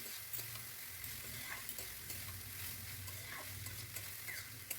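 Soaked flattened rice stirred and frying in a pan with sweet syrup drizzled over it, a faint, steady sizzle with soft scraping strokes and no voices.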